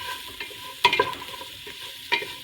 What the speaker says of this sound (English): Start to get those onions cooked down.